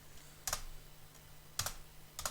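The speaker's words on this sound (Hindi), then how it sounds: "अब मैंने एंटर प्रेस किया" Three crisp key presses on a computer keyboard, evenly spaced about a second apart, during data entry in accounting software, close and clear over a quiet room with a faint low hum.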